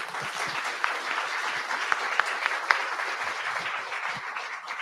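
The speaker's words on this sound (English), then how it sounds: "First round of applause" Audience applause after a talk at a WarsawJS meetup, a steady, moderately loud wash of clapping with a few sharper individual claps poking through, lasting the whole stretch.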